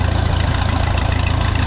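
A Minneapolis Moline tractor engine runs close and loud through a Stanley muffler, a steady throbbing low rumble with a fast even exhaust pulse.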